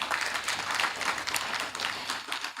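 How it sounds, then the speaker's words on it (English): Audience at a closeout ceremony in Jamaica clapping for a speaker, a dense and steady round of applause from many hands at moderate distance, continuing throughout without speech. "A round of applause for him again."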